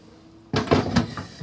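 Caravan door blown shut by the wind inside a 2005 Bailey Senator, heard as a sudden close thud with a short rattle and a couple of follow-up knocks, near and fairly loud after a quiet start.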